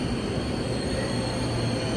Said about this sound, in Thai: แล้วก็รถไฟก็มาอีกคันนึง